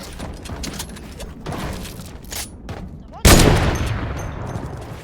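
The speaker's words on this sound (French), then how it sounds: "Mais tu m'as mis une balle de barrette." A loud Barrett sniper rifle shot rings out in a video game, a sharp blast followed by a decaying echo over ongoing gameplay noise.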